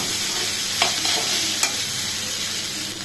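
Noodles with beef, carrot, onion, pepper and capsicum stir-fried in a pan, a constant sizzle with two sharp utensil clinks, close and without speech.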